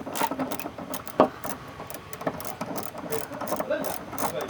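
A ratchet wrench loosens 10 mm bolts on a Maruti Fronx tail lamp, giving quick irregular clicks and metallic ticks at close range with a sharp knock partway through.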